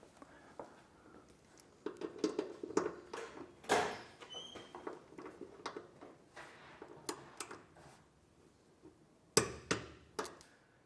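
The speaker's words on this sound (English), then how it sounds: "we're going to go back through that hardware using a torque wrench" Torque wrench tightening the steel nerf bar hardware on a vehicle, a series of faint sharp clicks and metallic ticks spaced irregularly over quiet background, with a couple of louder snaps.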